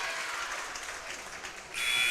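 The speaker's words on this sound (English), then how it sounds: "And the buzzer will sound." A steady crowd murmurs in a basketball arena, then a loud sustained electronic buzzer blares to end the third period.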